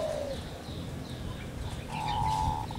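Soft zebra dove coos sound twice in an aviary, a short one at the start and a longer one near the end, over quiet background noise.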